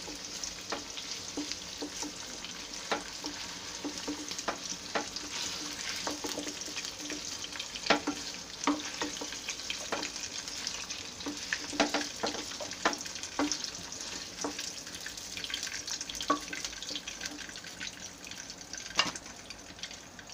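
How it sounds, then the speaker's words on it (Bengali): Paneer cubes shallow-frying in a pan for an aloo paneer curry, a soft continuous sizzle broken by frequent sharp clicks and taps from a utensil moving the pieces. "পনিরগুলো যদি আমরা অতিরিক্ত ভাজি তাহলে এটা শক্ত হয়ে যাবে"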